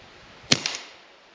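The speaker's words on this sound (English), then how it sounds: "we're gonna put our thumb back here on the slide, firing one round at a time, basically making it a bolt action" A suppressed .22LR pistol fires a single round with the slide held shut by a thumb: one short, muted crack followed by a couple of faint mechanical clicks, close by and otherwise quiet.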